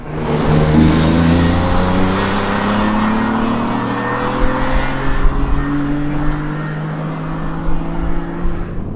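A tuned BMW M3 CSL with an Evolve engine tune drives on the open road, its engine note loud and close, revving up through rising gears with a steady drone and occasional throttle changes.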